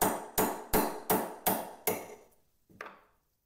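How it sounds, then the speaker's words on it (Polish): A hammer strikes a part of a Vis wz. 35 pistol during assembly, six sharp, evenly spaced metallic blows followed by a lighter tap, close and loud with no talking. "Brutalna siła młotka."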